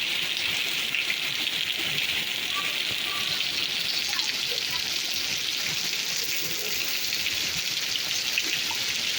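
Steady, dense rain hiss fills the whole stretch in Laos, a constant wash of falling water with scattered drips, fairly loud and close, with no voices.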